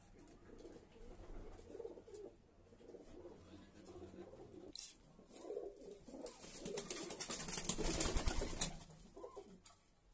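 Pigeons cooing in a loft kept for flying, soft low repeated coos close by, growing busier toward the end with a brief burst of wing flapping.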